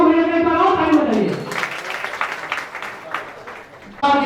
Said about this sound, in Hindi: आइए प्रदीप वर्मा भैया के एक बार और ताली बजाइए।